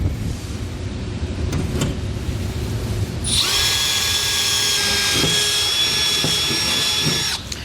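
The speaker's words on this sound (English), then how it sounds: "Now I just want to grab a small drill bit and drill a pilot hole in each marked location." A power drill with a small bit drills a pilot hole through a pickup truck bed and cross member, whirring up and running steadily for several seconds, a high sustained whine under a low background hum, then winds down.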